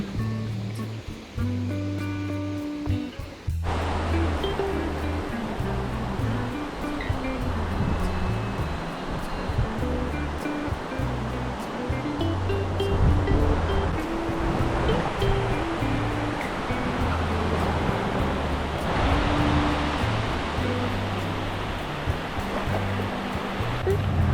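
Steady roar of sea waves breaking on the beach behind a seaside villa, a continuous close wash of surf with no talking.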